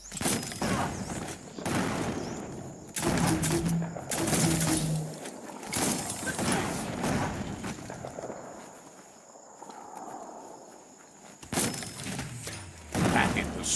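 Bomb lobber explosions in the video game Biomutant: several loud booming blasts and thuds in quick bursts, mixed with footsteps and game effects, with a voice talking between the hits.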